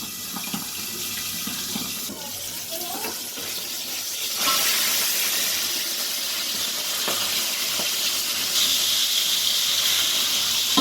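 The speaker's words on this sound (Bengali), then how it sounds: "দেখো মাছটা ভাজা হয়ে এসছে" Pabda fish frying in hot oil, a loud continuous hiss and sputter close by that grows stronger about halfway through and holds steady to the end.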